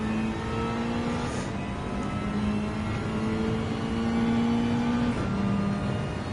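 Steady engine drone of a Mazda 3 race car built to Group 4 regulations in Gran Turismo 7, a sustained whir rising and easing in pitch with no talk.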